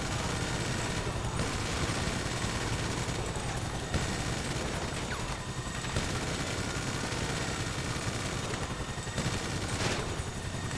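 Rapid gunfire in GTA 5 Online: dense, continuous bursts of automatic weapon fire over a steady engine-like rumble for the whole stretch, with no talk.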